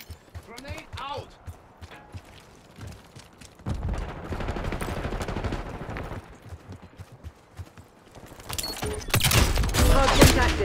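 Rapid gunfire bursts and a grenade in a Call of Duty Cold War hardpoint match, bursts of shots scattered through the clip and a denser, louder volley near the end, with in-game voice callouts in between.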